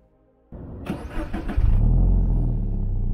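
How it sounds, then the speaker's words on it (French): Subaru BRZ 4-cylinder engine starts after a starter whir, then catches with a loud blip of revs before settling into a steady, throaty idle close by. "Ah, il sonne bien ce petit 4 cylindres."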